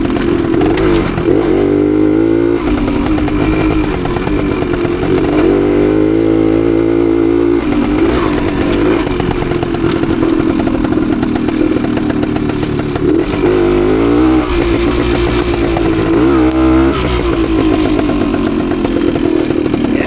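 A 52-year-old Suzuki TS185 motorcycle is ridden along trails in third gear, its engine loud and close, revving up and easing off repeatedly in a raw, buzzing drone.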